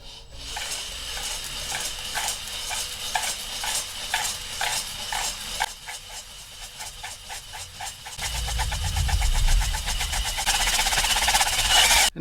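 A flex hone scours light rust from oiled engine cylinder bores with a rhythmic metallic scraping and whirring, close and fairly loud. A heavier rumbling drill drive joins in the final seconds.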